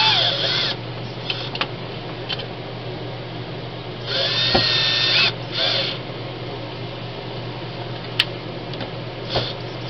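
A power drill screws a thermostat back onto a wall during an RV Dometic air-conditioner control swap, whirring in a few short bursts, the longest near the middle, with a steady hum behind.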